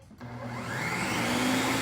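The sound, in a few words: blender blending butternut squash soup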